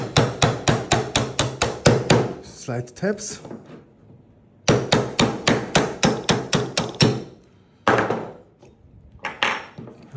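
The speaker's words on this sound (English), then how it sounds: "here you have a pin that you have to take out. With a punch. And the hammer," Hammer strikes a punch to drive out a crossbow pin, a rapid run of sharp metallic taps, then a pause, then a second run of taps, with someone talking in the gaps.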